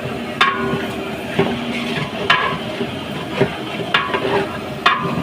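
Rice being cooked in a large pot for a function meal, with rhythmic scraping strokes of a ladle stirring roughly once a second over a constant frying sizzle.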